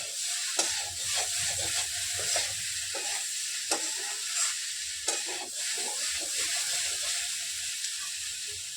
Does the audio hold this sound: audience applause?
no